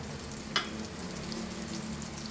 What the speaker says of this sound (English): Fry it crispy. Okay, make it on low flame, otherwise the semolina will get quickly fried.